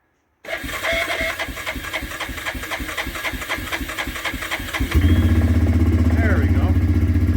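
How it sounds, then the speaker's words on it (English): A 2004 Yamaha Kodiak 450 ATV engine is cold started: the starter cranks in a rapid rhythmic churn for several seconds, then the engine catches and settles into a loud, steady idle, with a voice heard briefly. "I gotta get used to cold starting this"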